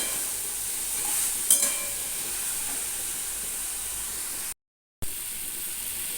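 Brinjal kasha being stir-fried in a pan over a low gas flame, a steady close sizzle and hiss with a brief spoon scrape, then a short cut to silence before the frying resumes.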